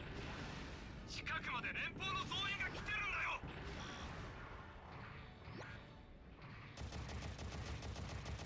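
Machine gun fire in the Gundam Battlefield Record U.C. 0081 video game, a rapid rattling burst near the end amid quieter game effects and whooshes, faint overall.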